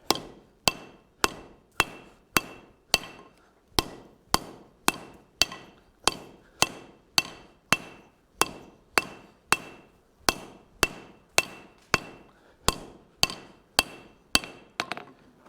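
A hand hammer rings on hot steel at a steady pace, about thirty sharp, close blows with short decays, drawing down the hardy shank of a forged anvil bick to 5/8 inch square.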